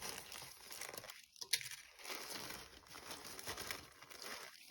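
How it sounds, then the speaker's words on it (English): A plastic bag of polystyrene balls is cut open with soft, faint crinkling and rustling over a quiet room hum. There is a slightly sharper tear partway through. "So let's just cut the bag open."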